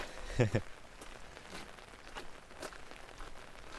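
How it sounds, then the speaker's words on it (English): Rain falling on a street during a walk through Helsinki in winter, a faint steady patter of drops with scattered soft taps and a brief louder knock near the start. "Yes, Matt, I think we could share some rainy weather to you also"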